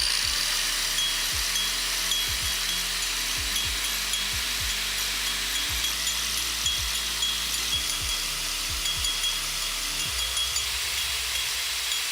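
An angle grinder cutting, a steady loud broadband hiss and whine with periodic low thumps as the disc bites, continuous and close with no talk.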